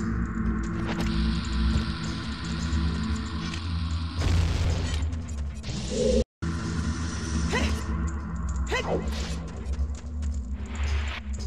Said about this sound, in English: Maybe I should drop a bomb in here.